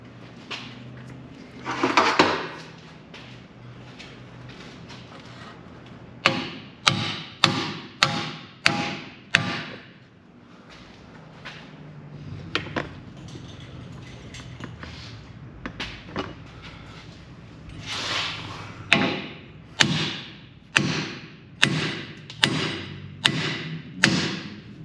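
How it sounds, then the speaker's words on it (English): Hammer pounding a 1 13/16 socket to drive a rear axle bearing into a 1998–2013 Ford F-150 axle housing: bursts of sharp metallic strikes, first a run of about seven evenly spaced blows, then a pause with scattered knocks, then another steady series. "pound it in with a hammer."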